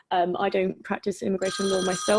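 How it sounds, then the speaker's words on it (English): A phone rings beneath someone speaking, its trilling electronic ring rising behind her voice toward the end. "that's my phone."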